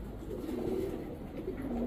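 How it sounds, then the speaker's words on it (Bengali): Army breed pigeons sitting on eggs give a soft, low cooing that rises and falls in a steady murmur, faint and fairly close. "এখন এক জোড়া আর্মি কবুতর দেখাবো, একদম ডিমের উপরে আছে আর্মি"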